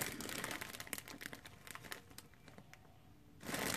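Wrapping paper from a gift box being crinkled and crumpled close up, a continuous crackling rustle that eases off briefly before a final loud burst of crinkling.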